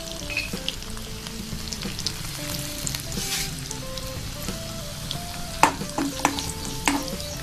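Garlic and cumin seeds with asafoetida crackle in hot oil as a tempering for dal, a dense continuous sizzle with scattered pops and a few sharper stirring knocks toward the end.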